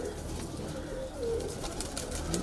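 A tall high-flying kalpare pigeon in a loft coos softly, with a couple of low, rounded calls over a quiet room background and no speech.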